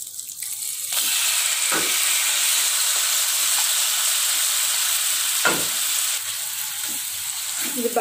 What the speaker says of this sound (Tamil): இது பட்டரில் நம்ம இதை கொஞ்சம் நல்லா சிக்கனை வதக்க போகிறோம்.